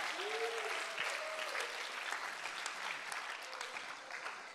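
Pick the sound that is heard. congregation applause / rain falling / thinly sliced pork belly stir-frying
congregation applause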